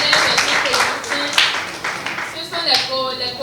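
An audience claps at a school project presentation in Benin, a short burst of scattered hand claps mixed with a voice talking over it.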